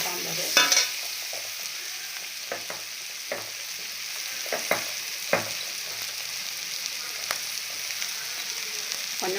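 Brinjal and mango pieces sauté in a pan for sambar, a soft steady sizzle broken by scattered scraping stirs of a spoon, fairly quiet and close.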